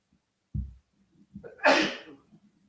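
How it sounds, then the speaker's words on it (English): A single close sneeze bursts out after a quick sharp intake of breath, loud and alone with no talking over it, followed by faint breathing. "I have to sneeze."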